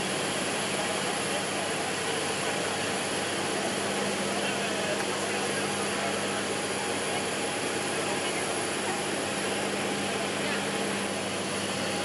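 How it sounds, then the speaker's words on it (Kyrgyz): A Boeing 737-800 airliner arrives at Manas airport, its jet engines giving a loud, steady roar with a constant hum running through the whole stretch and no clear break. "Бүгүн Истанбулдан Манас аэропортуна Бүбүсара Бейшеналиеванын аты ыйгарылган Боинг 737-800 учагы келип кондо."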